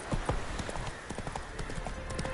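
Rapid clip-clop of a horse galloping in Skyrim, a quick rhythmic hoof pattern at moderate level with faint voice-like sounds underneath.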